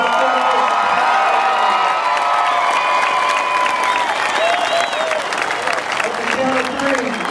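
A crowd claps and cheers at a soldier's surprise homecoming to his children, sustained loud applause mixed with high whoops and excited children's shouts that carry on without pause.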